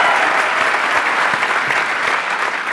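A crowd at a live poetry and motivational talk applauds warmly, a dense, steady wash of many hands clapping at even volume for nearly three seconds with no voices over it.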